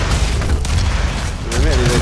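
Rocket explosions in the DOOM open beta, rumbling booms and a burst of rapid blasts, loud and close, with a voice talking over the action.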